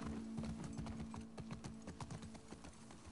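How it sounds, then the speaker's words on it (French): Rapid, steady hoofbeats of a horse trotting in The Last of Us Part II, a quiet, even clatter over a low hum with no talk. "je vois le cheval,"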